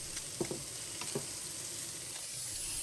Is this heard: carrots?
yes